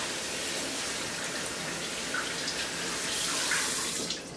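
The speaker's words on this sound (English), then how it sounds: "So just make sure that you're moving it around and really rinsing it off." Hand-washed clothes rinsed under a running tap, with a steady, close rush of water and soft sloshing as the fabric is moved around, ending with a slight drop as the flow changes.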